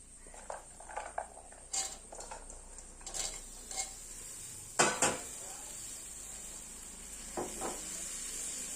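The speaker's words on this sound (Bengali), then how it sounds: "এবার ভিজিয়ে রাখা এই যে চিনি বাদাম দিয়ে দিচ্ছি" Metal spoon scraping and knocking in a pot as soaked peanuts are stirred into Gobindobhog rice khichuri, a few light clinks and scrapes spread across the clip, close and fairly quiet.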